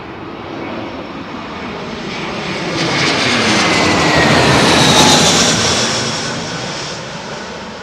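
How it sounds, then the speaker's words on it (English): A fixed-wing airliner passes at London Heathrow Airport on a windy day, its engine roar swelling to a loud peak midway and then slowly fading as it moves off, with no voices. "Love that aeroplane."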